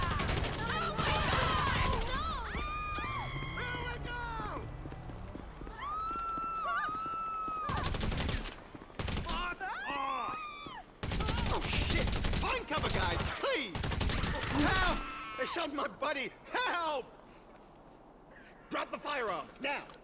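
Special carbine gunfire in a video game comes in several loud, rapid bursts, spaced between stretches of game voices and other in-game sounds.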